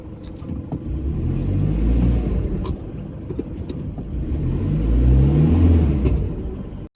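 A car engine revs hard in two long surges, stuck in mud in Bago State Forest. The deep rumble swells and fades with the throttle, with a few faint clicks and no talking.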